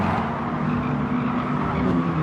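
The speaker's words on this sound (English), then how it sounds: "Hard on the brakes. Sliding there." Race car in a sprint racing video game braking hard and sliding, a dense, loud burst of engine roar and tyre scrub lasting a couple of seconds.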